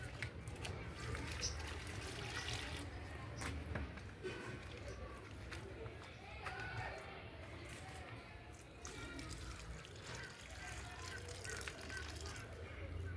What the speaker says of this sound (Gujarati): હવે પાણી પાઈ દો.